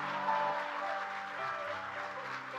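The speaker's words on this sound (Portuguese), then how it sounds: "Só quem recebe dá um forte aplauso e um grito de júbilo ao Senhor" A church congregation at an anniversary service applauds, a faint, dense wash of clapping mixed with crowd noise, steady across a short stretch.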